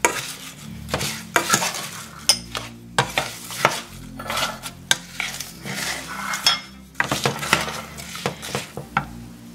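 Apple pie cookie filling of apple pieces coated with cornstarch is stirred in a bowl, giving repeated wet squishes and sharp clinks of a utensil against the bowl in an uneven, busy rhythm, close and fairly loud.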